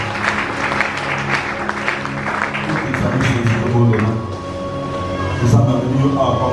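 Church congregation at a Sunday service applauding together, a steady dense wash of clapping that runs throughout and swells toward the end.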